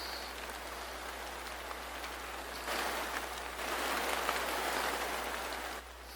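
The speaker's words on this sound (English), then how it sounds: "there's a sound effect in the back with the rain" Steady rain sound effect playing behind a recording, a dense even hiss that swells louder midway and then eases slightly near the end, with no voices.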